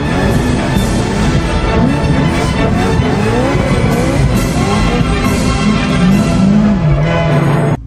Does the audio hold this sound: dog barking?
no